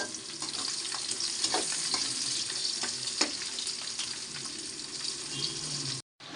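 Garlic hits hot oil for a tempering and crackles in a dense, steady sizzle with scattered sharper pops, close by, before cutting off abruptly near the end; no speech.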